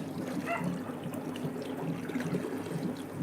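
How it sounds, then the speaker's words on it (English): Water trickles and gurgles faintly as it is drawn out of a fish tank in a fish room, a steady, quiet, continuous splashing flow with no voices. "Get a bit more water out."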